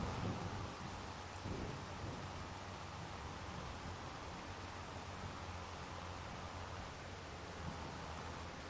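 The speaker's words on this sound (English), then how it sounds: "And it's raining." Rain and thunder in the Farming Simulator 25 video game: steady, dense rainfall hiss with low thunder rumbles, loud and continuous throughout.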